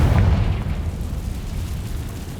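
The Confringo spell in the Hogwarts Legacy video game goes off as a loud, close explosion with a deep booming blast that rumbles on and slowly fades across a couple of seconds.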